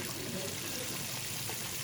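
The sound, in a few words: water poured into a large kadhai for gravy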